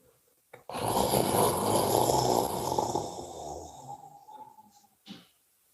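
A long, forceful breathy exhale forms the qigong healing sound for earth, a rough, snore-like rush that fades over several seconds, followed by a brief breath.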